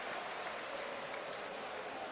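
Steady, dense applause from a large arena crowd cheering Alexander Gustafsson's TKO victory in a fight against Jimi Manuwa, sustained and even throughout with no clear voices above it.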